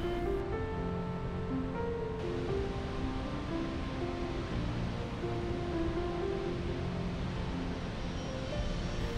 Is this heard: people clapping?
no